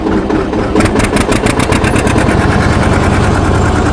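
A John Deere R tractor engine throttling up in second gear while disking a field, a loud, steady, rapid chugging pulse that fills the whole stretch, close and with no talk.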